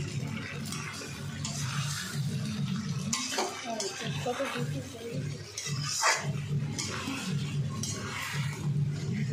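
Mutton and potatoes being sautéed in a pot for a thin mutton curry, with metal spoon scraping and clanking against the pot, sizzling underneath, and a few knocks, all close by.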